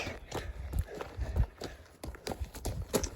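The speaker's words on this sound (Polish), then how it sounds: "Też Haribo to duży koń." Hooves of a large horse clip-clop in a brisk, uneven rhythm during riding practice over low jumps and cavaletti at a countryside plot, close and moderately loud.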